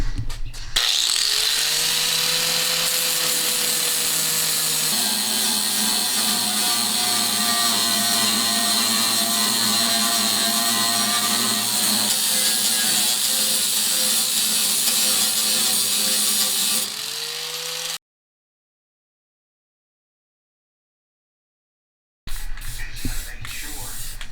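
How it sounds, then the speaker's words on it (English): A power grinder grinds away welds on a 1978 Ford F100 bedside, whining steadily and loudly with a harsh, hissing edge for about sixteen seconds, then cuts off into silence. "Just gonna grind away the welds now."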